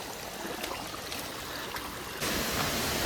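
A stream flows near Gharpi Waterfall in Sindhudurg, Konkan, as a steady, broad rush of water that grows slightly louder toward the end, with no voices.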